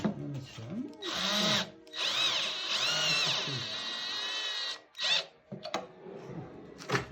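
A power drill drives a self-tapping screw into a pre-drilled hole in natural wood while a furniture facade is being hung, giving a loud whining run from about one to five seconds, then a few short bursts.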